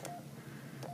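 Two short electronic keypad beeps from a Yaesu FT-60R handheld transceiver, one at the start and one near the end, separated by quiet hiss.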